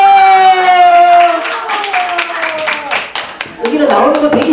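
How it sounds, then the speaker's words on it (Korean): An audience at a recreation-leadership seminar in a university small auditorium breaks into rapid, crowded clapping that builds beneath a sustained singing-like voice at first and grows louder toward the end. "박수"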